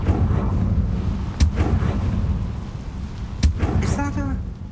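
Two sharp fiery blasts of the Confringo fire spell in Hogwarts Legacy, a couple of seconds apart, punching through a rumbling game soundscape, with a brief voice near the end.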